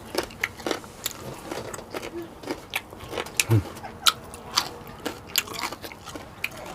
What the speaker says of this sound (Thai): หมูหุ้งกรอบพี่น้องกรอบดี